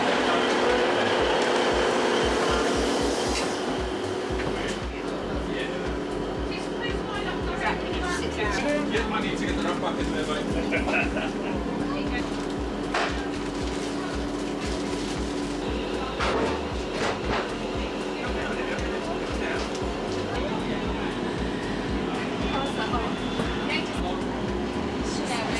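Inside a busy passenger train on the Marston Vale line, with a steady low rumble and rattle of the carriage running on, and people talking over it throughout.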